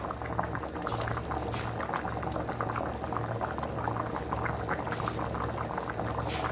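Water is poured onto saffron strands in a cup, making a continuous close bubbling, fizzing trickle that holds steady throughout with no talking.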